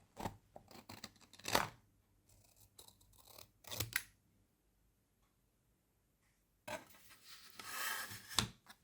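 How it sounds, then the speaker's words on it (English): Scissors cutting a printed PCB layout on glossy paper, a few sharp crisp snips in bursts separated by quiet pauses, close and fairly faint. "we cut out the part of the PCB layout that we want to transfer using scissors and cutting it to the desired size"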